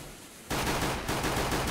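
Sustained rapid automatic gunfire from Counter-Strike on the Inferno map, loud and continuous after a brief quieter lead-in, spraying in dense overlapping bursts with no talk.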